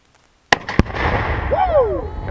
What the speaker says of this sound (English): And right there, you can see hit the Tannerite. Nice big explosion.